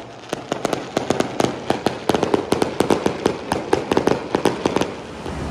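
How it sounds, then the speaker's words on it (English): Fireworks crackle and pop in rapid, irregular bursts from a moderate distance over Cabo San Lucas, Mexico, heard from a hotel balcony, dozens of sharp reports overlapping continuously. "And got to enjoy some fireworks from our balcony."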